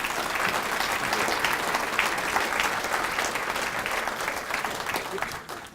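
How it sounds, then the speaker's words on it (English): An audience applauds after a talk on the history of North Carolina district court judges, with dense, sustained clapping from a crowd that holds steady and then tapers off at the end. "Another round of applause, please."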